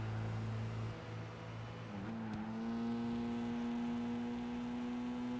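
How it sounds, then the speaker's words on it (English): A Mazda RX-7 race car in Gran Turismo 5 holds a steady, droning engine whine with a rising tonal pitch shift midway, sustained and fairly quiet, with no talking over it. "You can barely hear the engine note over the RX-7."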